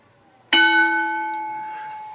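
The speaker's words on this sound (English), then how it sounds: "Bell has sounded and we are ready." A single bell strike sounds sharply to start a match in a televised UWF-style pro wrestling video game, its clear metallic tone ringing out and slowly fading with no voices over it.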